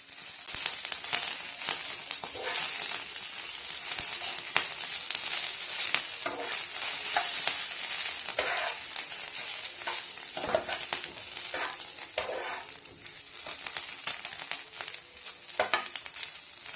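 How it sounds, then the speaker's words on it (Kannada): Green chillies fry with pundi palya greens in a North Karnataka kitchen, a steady close sizzle broken by repeated scraping stirs of a spoon in the pan, with no talking. "ಒಂದಿಷ್ಟು ಮೆಣಸಿನ್ಕಾಯಿನೂ ಹುರಿದ್ರಿ ಪುಂಡಿ ಪಲ್ಯದ ಕೂಡ"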